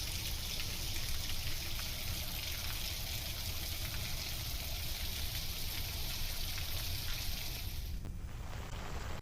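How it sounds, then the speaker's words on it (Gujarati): Heavy monsoon rain pouring down in Arvalli, a steady dense hiss of falling water that carries on throughout, with no voices over it. "ફરી ધોધમાર વરસાદ અહીંયા શરૂઆત થઈ છે"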